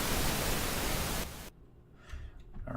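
The FamiSynth 8-bit noise channel produces a steady wash of hissing static for over a second, then cuts off, leaving faint scattered crackles and low rumble.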